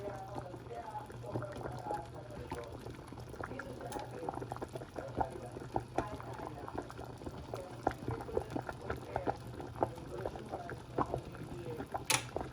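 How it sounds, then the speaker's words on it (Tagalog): Sinigang with pompano fish simmers in a pot, a soft continuous bubbling with small pops and gurgles throughout, close by and fairly quiet, with a low steady hum underneath. "Pakulo lang natin ng ganyan."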